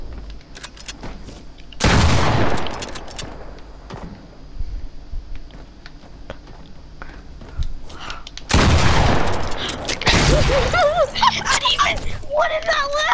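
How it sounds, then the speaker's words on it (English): Gunfire in the video game Fortnite: loud bursts of shooting come in two heavy clusters amid scattered shots and clicks, with a player talking over parts of it. "Shooting."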